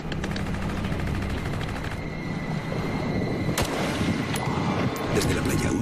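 Somali pirates fire guns during a mercenary rescue operation off the coast of Somalia. Scattered sharp shots crack out from moderate distance over a constant noisy background, with a couple of distinct reports standing out.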